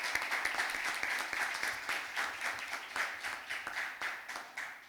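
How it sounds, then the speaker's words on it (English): A school debate audience applauds the best speakers, steady moderately faint clapping with individual claps audible throughout, rising and falling slightly before fading at the close. "So I'll ask you to just give another round of applause to Ms. Ghazala as well as Ms."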